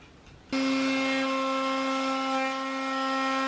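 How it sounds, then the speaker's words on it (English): A handheld router spins up abruptly and whines at a loud, steady pitch while rounding over the edge of wooden bookcase trim, the tone holding close and constant throughout. "I'm using the router to put a little curve over on here"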